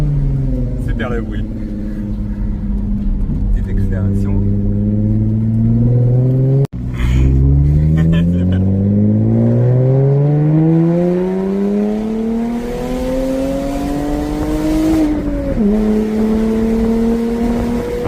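Jaguar F-Type V6 with a valveless stainless steel exhaust, revving loudly and close up in repeated climbing pulls, pitch sweeping upward with a brief cut partway before rising again.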